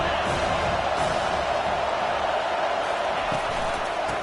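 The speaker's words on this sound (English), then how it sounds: "Decibels rising as the crowd gets behind this defense on third down" A college football stadium crowd roars behind the defense on a third-down play, a dense, continuous wash of noise with no break for the whole stretch.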